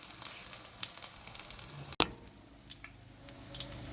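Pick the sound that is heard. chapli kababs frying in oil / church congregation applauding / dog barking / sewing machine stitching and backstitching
chapli kababs frying in oil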